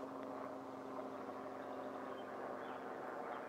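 A passenger transport helicopter passes over a house, heard as a steady, distant, muffled engine drone that holds an even level throughout, with no voices.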